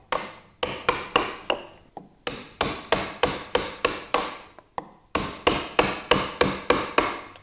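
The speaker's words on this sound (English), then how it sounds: "I'm using a number 3 gouge for this roughing." Sharp, evenly spaced taps of a mallet driving a number 3 gouge while roughing out a wood relief carving of a leaf, close and crisp in quick runs separated by brief pauses.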